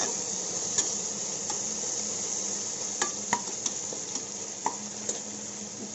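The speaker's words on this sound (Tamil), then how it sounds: "நம்மளோட வெங்காயமும் தக்காளியும் நல்லாவே வதங்கிருச்சு" Onions and tomatoes sautéing in a pan as the base gravy for mutton biryani, giving a soft continuous sizzle with scattered light scraping ticks of a stirring spoon, no voices.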